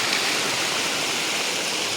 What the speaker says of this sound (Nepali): ल खोला बगिरहेको